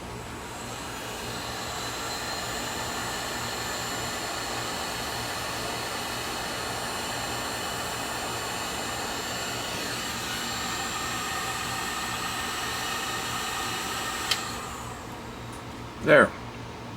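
A heat gun blows a steady, even whoosh for about fourteen seconds while shrinking heat shrink tubing over the remains of a 1993 Freedom Phone antenna, then cuts out, followed by a brief knock.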